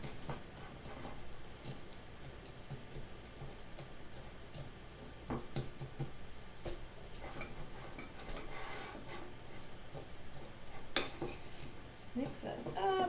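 Brown sugar is stirred and broken up in a bowl with a utensil, giving faint, steady scraping and light tapping with a few sharper clinks, under a quiet room background.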